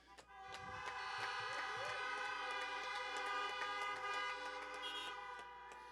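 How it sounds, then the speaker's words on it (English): Many car horns honk together in a sustained chorus at a drive-in graduation ceremony, long overlapping tones filling the air for several seconds after a brief start. "Can we get a honk for your parents, guardians, and families?"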